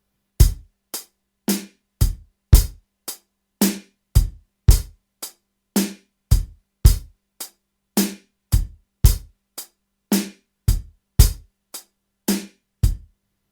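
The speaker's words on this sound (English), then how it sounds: "we're going to take that bass drum off the 2nd hi-hat and we're going to put it on the 4th hi-hat" A basic drum kit beat loops steadily, with crisp hi-hat hits carrying the pulse and bass drum thumps landing on the first and fourth hi-hat of each bar, played clearly and alone with no talking.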